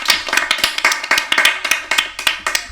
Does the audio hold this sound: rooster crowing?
no